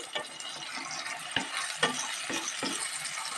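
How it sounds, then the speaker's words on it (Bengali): Grated tomato sizzles with onion in a pan while being stirred, a steady close frying hiss broken by a few soft scraping knocks of the spoon, with no one talking. "টমেটোটা দিয়ে আবারও একটু ভালোভাবে কিন্তু কষিয়ে নিচ্ছি পেঁয়াজটার সাথে"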